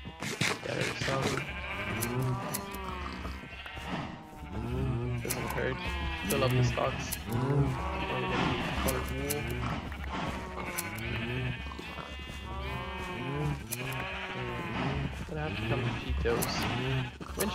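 Minecraft sheep bleat repeatedly in a fenced livestock pen, a steady chorus of overlapping baas running throughout while someone talks over them.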